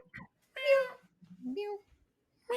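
A person's voice imitates a cat, giving a few short meows with pauses between them, close and clear.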